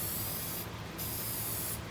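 Lacquer sprayed onto a turned wooden bowl in light coats from a distance, a steady hissing spray with a brief pause midway, alone without talk.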